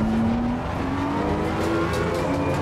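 Race car engines in Assetto Corsa Competizione, with a Mercedes and a Porsche on track, drone steadily and loudly, their pitch climbing gradually under acceleration.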